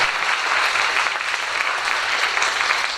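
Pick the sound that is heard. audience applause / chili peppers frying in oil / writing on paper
audience applause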